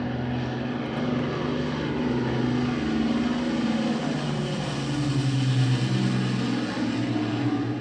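A propeller-driven Lancaster bomber flies steadily, its engine drone a continuous, fairly loud hum with a low, even tone and no break or talk.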